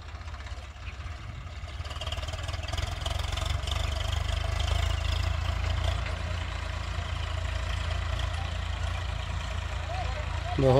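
A Swaraj 744 tractor engine runs with a steady, loud, low diesel drone close by, holding an even chugging rumble throughout with no breaks.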